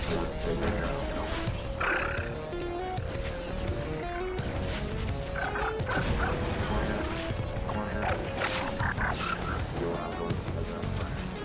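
Dog barking in Far Cry 3: Blood Dragon, loud repeated barks and snarls mixed with game music, crashes and gunfire, with someone talking over the action.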